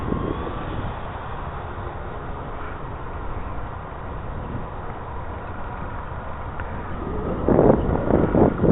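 Gusty wind roars steadily across the microphone at a flying field where a Dynam FW190 RC plane is in the air, the buffeting growing louder and rougher in the final seconds.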